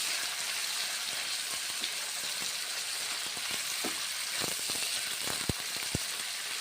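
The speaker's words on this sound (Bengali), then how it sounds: "লাউগুলো ভেজে নিচ্ছি" Bottle gourd pieces frying in hot oil for a lentil dal, a steady close crackling sizzle with scattered sharper pops toward the end, no voices.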